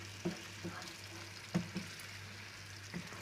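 A spoon knocks softly against a cooking pot as yogurt is stirred into chicken for a white cream chicken handi, with a few faint taps over a low sizzle.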